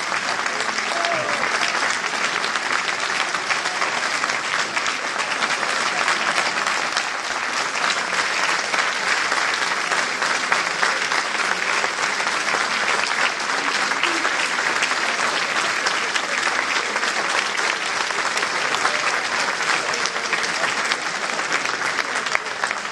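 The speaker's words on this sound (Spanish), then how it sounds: "que es una ovación." Sustained, dense applause from a large crowd, steady and loud throughout without pause, clapping merging into a continuous roar.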